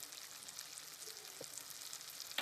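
Tomato with chili, turmeric and coriander powder sautéing in oil, a faint steady sizzle with a couple of soft utensil taps near the end, quiet and close without speech.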